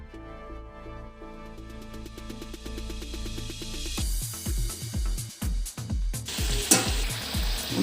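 Wheat-flour vadas frying in hot oil, a steady sizzle that grows busier and crackles in the second half, with a tonal musical bed running underneath throughout.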